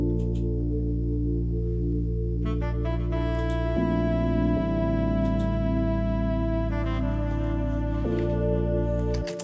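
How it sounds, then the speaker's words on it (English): Bass guitar line from the Kepler plugin in FL Studio, built for a private school amapiano track: a steady, loud, sustained low melodic bass with held notes changing every second or two, playing alone without talk. "So the first bass line from the song comes from Kepler."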